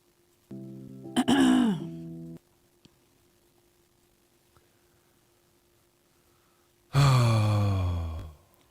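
Two separate rough, rasping throat clearings, each a couple of seconds long, loud and close, with near silence between them.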